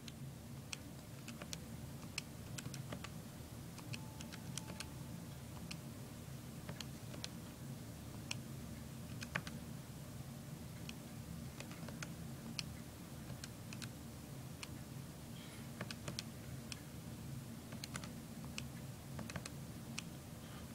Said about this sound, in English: I'm in the L1 column, and I just simply start typing in data.